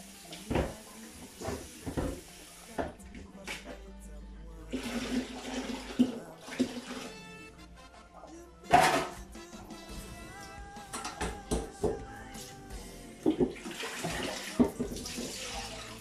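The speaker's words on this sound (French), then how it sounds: "Vous voyez, il y a de l'eau qui coule." Water runs and splashes in bursts while cassava sticks (chikwangue) are being prepared, with intermittent gushes, handling knocks and rustling close by, no talking.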